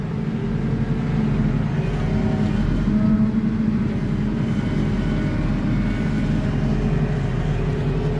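The diesel engine of a JCB boom loader runs as the vehicle is moved, giving a steady, loud, low rumble with no talk.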